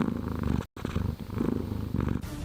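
A cat purrs close up in a steady, rumbling rhythm of breathy cycles. The purring runs continuously apart from one brief dropout, with no voices.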